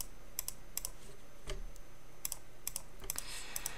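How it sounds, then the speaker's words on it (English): Computer mouse clicking during black-and-white photo editing in Camera Raw 7.1, a series of sharp, close, quiet clicks coming singly and in quick pairs over a low steady hum. "Pardon my clicking."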